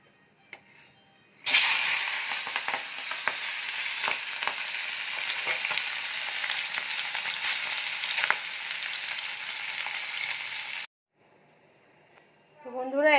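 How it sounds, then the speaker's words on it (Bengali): Singi fish go into hot oil in a wok and set off a loud, close, crackling sizzle that begins abruptly and holds steady for about nine seconds, then cuts off. Quiet room sound and a brief voice follow. "মাছগুলো এখন ভেজে নেব।"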